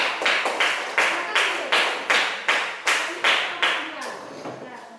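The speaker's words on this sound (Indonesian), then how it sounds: "Tepuk tangan dulu kelompok 1" Rhythmic group clapping in a sixth-grade classroom for the first student group, about a dozen evenly spaced claps in a steady beat, fading slightly toward the end, with faint voices underneath.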